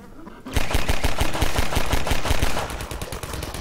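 Automated turret in Half-Life 2 firing a rapid, steady burst of gunfire, close and loud, rattling continuously for about two seconds before tapering into a rougher, slightly quieter stutter of shots.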